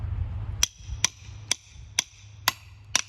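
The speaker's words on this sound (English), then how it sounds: "putting the world's biggest nail into this board, the world's smallest hammer" A very small hammer strikes a large nail in a board six times at a steady, even pace, each blow a sharp, bright metallic tap against a low background hum.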